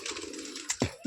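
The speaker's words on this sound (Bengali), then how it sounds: "এই যে পায়রা সব বাইরে ছাড়া রয়েছে, এখনো আছে, উপরে আছে, অ্যান্টানায় বসে রয়েছে" Pigeons perched outdoors on an antenna give a brief, soft cooing call, faint and close, with a couple of light taps near the end.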